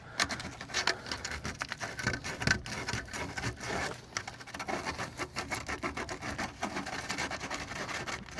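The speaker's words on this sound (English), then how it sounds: "if you do any PVC pipe working, before you primer, make sure you're sanding your edges" Continuous rapid rasping and scraping as PVC pipe edges are sanded before priming, steady and fairly close, with a busy texture of short repeated strokes throughout and no voices.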